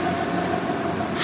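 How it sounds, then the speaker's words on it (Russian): A vibrating timing belt on a Mitsubishi 4G63 engine after a belt replacement, a steady close idling drone with a thin whine running through it, alone with no talk. "Это звук именно вибрирующего ремня ГРМ."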